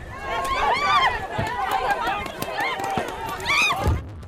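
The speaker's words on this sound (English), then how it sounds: "The crowd runs as canisters of gas hit the ground off Laguna Road." A crowd of protesters at a street unrest scene off Laguna Road runs amid landing tear gas canisters, with shouting voices, scuffling footsteps and chatter blending into a dense, steady commotion.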